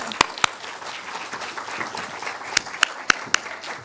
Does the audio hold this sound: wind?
no